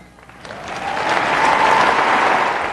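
Town hall meeting audience breaking into applause, a dense wash of clapping that swells from quiet to loud and holds steady.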